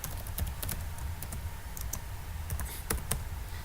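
Someone types on a computer keyboard while writing a program, a quick irregular run of crisp key clicks close by with a few sharper strikes, over a low background hum and without speech.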